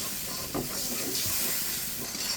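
Water poured into spice paste frying in a pan for a koi fish curry with pui leaves gives a steady, close hiss and sizzle that runs alone and unbroken throughout.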